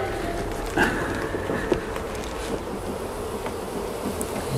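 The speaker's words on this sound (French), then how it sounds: "Mais a priori, il y a suffisamment d'abeilles." Honey bees buzz steadily around a hive during a queen-rearing grafting test, a dense continuous insect hum close by with a few louder passes, and no speech.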